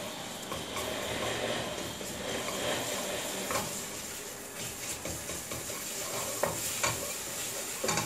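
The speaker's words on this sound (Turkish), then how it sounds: "Kavuruyorum kızlar tarhanayı," Tarhana is sautéed with tomato paste and oil in a pan, giving a continuous soft sizzle with scraping stir strokes and a few sharper clicks of the utensil against the pan near the end.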